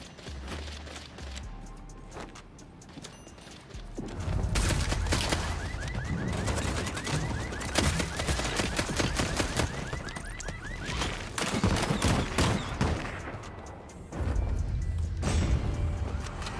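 Dense, rapid video-game gunfire rattles in sustained bursts of near automatic shots, pausing briefly before erupting again over a busy background of game noise.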